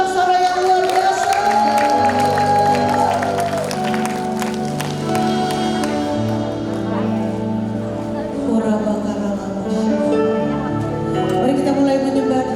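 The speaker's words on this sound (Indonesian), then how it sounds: "berikan lagi sorak-sorai yang luar biasa" A church congregation at a worship service cheers and applauds loudly, a dense sustained roar of voices and claps with music playing underneath.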